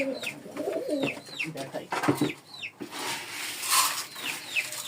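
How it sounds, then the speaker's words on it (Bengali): Pigeons kept at home coo repeatedly in soft, rolling phrases, close by, with some wing flutters and someone talking intermittently over them. "এই হচ্ছে কবুতর"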